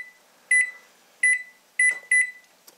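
Kitchen oven timer being set, giving four short, clear electronic beeps in an uneven pattern, close and loud, followed by a faint click.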